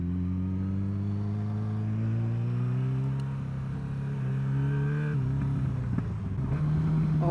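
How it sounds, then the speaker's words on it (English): At a car meet on an evening country road, engines rumble and rev steadily, with pitch climbing and dipping, one car close and loud amid a continuous motor drone. "There is a bit of a car meet going"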